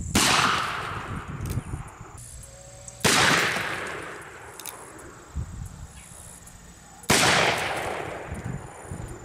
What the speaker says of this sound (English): This is a single action pistol. That means we cock it every time we fire it.